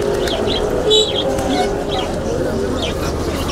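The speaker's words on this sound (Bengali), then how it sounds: "আজকে নিয়ে আসছি ভ্যারাইটিস কবুতর, হুমা, গোল্লা, গিরিবাস।" Pigeons of several breeds, including huma, golla and giribaz, coo amid the busy hubbub of the Dakshinkhan market, their calls soft and mixed into constant crowd noise and nearby talk.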